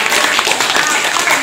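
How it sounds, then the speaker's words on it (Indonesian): Audience clapping at a batik discussion gathering in Museum Singhasari, Indonesia: a steady, dense patter of many hands lasting a moment, with voices mixed in. "Tepuk tangan dong buat kita semua."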